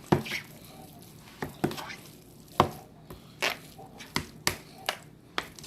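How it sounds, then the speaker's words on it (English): A utensil scrapes down the edges of a bowl while shrimp-potato salad is folded, giving irregular soft thuds and scrapes, close and quiet, with pauses between strokes. "Scraping down on the edges"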